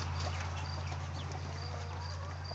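Chickens cluck softly in a close, continuous murmur over a steady low hum, with no voices.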